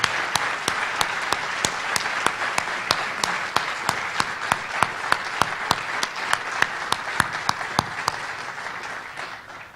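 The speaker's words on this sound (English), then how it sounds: "could we give one more round of applause for our Superior General?" A hall of people applauds the Superior General at a celebration event, a sustained crowd clapping with one nearby pair of hands striking in a sharp, regular beat throughout.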